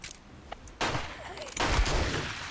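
Gunfire in the survival game 7 Days to Die: a loud burst of rapid shots, a pause, then a heavier volley with booming low end, all close and harsh.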